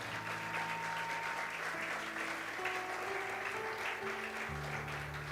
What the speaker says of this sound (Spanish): Alguien que le dé un aplauso al Señor.